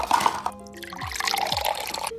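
Cold water poured from a spoon into a flour dough mixture in a home kitchen, a short close trickle and drip with faint sliding tones, no talking.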